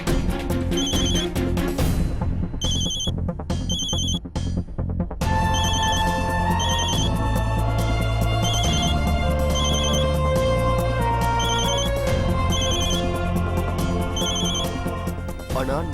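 Telephone rings on and on unanswered in a Tamil television drama, repeated trilling bursts over loud background music, with voices woven through.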